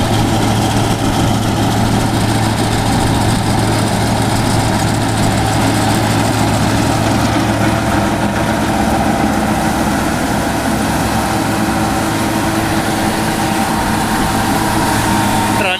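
A tractor engine idles steadily nearby, a loud, even low rumble that continues unchanged throughout.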